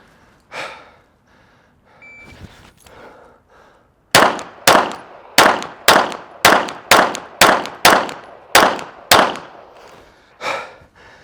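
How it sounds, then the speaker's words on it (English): Ten gunshots ring out against steel targets in a timed cold-start drill, sharp evenly spaced cracks each with a metallic clang, loud and close, after a few quieter handling sounds. "take 10 shots on target"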